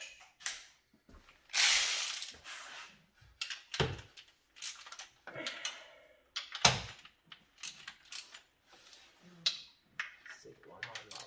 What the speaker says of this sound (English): Yeah, there's your ratchet.